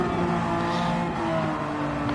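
Ferrari and Porsche race cars in a racing video game howl at speed with a steady, loud engine drone and shifting pitch, with no voices.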